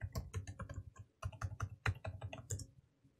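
Rapid bursts of keystrokes on a computer keyboard as a password is typed, close and clear with brief pauses between clusters of clicks and no talking.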